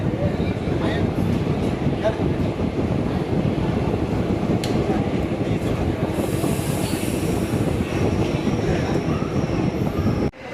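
The Tiruchendur Express train rumbles steadily along the rails at speed between Chennai Egmore and Tambaram, a continuous loud roar with rattling wheels and brief squeals, voices faintly mixed in.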